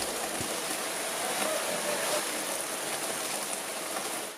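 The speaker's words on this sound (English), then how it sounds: "The next morning I woke up to rain, and a lot of rain" Heavy rain during the rainy season in Antigua pours down as a dense, even hiss with a faint patter, steady from start to finish and fairly soft overall.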